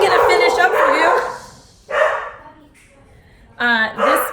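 A dog barks indoors in three short bursts, loud and close, with pauses between, while a person talks nearby.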